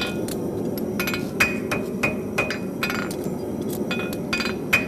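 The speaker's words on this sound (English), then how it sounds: "I just use my hammer to mark the outside" Rapid irregular metallic taps of a hammer marking the outside of a metal piece, sharp ringing clinks repeated many times, close and loud with no talking.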